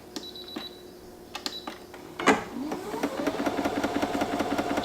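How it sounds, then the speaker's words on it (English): A Brother ST150HDH sewing machine runs on its own without a foot pedal, starting with a few scattered clicks and a clunk, then settling into a steady, fairly quiet, rapid mechanical whir that rises in pitch as it speeds up. "you can press the on button and it's just going to start sewing by itself"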